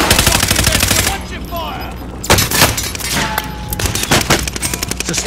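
Gunfire in the Call of Duty: Modern Warfare video game crackles in loud, dense automatic bursts with booming impacts, continuous through the clip, and voices are briefly heard under it.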